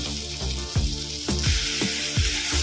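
Chili powder and turmeric sizzling in hot oil for a potato and lentil filling, a bright continuous close sizzle with rhythmic stirring scrapes about every half second.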